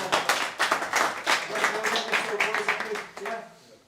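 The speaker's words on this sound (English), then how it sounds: "Give yourselves a big clap, yeah?" An under-19 football team claps together in a lively burst, close by, with voices calling out over the applause before it tapers off.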